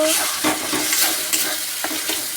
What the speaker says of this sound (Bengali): রান্না হচ্ছে এখন